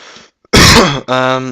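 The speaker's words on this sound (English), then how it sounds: "Sorry about coughing." A close, loud throat-clearing cough, a short harsh burst followed by a rough voiced rasp, with a faint breath before it.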